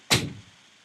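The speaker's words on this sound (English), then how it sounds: "Let's close our door." A door is pushed shut, giving one soft, close thunk with a short fading tail in an otherwise quiet room.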